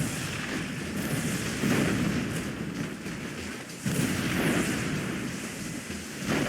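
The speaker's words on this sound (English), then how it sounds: "This explosion radius not dealing damage to this command hub." Explosions in a strategy video game with balloon bombs attacking a command hub, two heavy booming blasts with rumbling tails, loud and close, with no talking.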